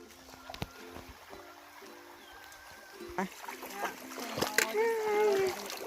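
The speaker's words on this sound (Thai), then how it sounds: "น้ำเย็นมากเลยน้ำเย็นน้ำเย็นน้ำใสไหลเย็น เย็นก็ไปถึงรองเท้าเลยทีเดียว" Feet splash through a cold, clear, flowing stream in the forest, with soft splatters and trickling water growing louder while people talk nearby.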